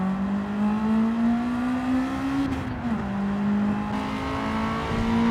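Honda race car engine and exhaust in Gran Turismo 7, a loud, steady droning rev with a brief lift and dip in pitch midway, heard alone without talk.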